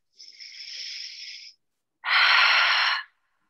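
Two long, deliberate breaths during yoga practice: a softer, airy inhale followed after a pause by a louder, forceful exhale, close and with no talking.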